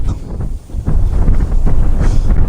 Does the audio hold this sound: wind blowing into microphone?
yes